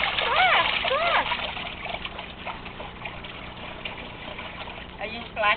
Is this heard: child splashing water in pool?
yes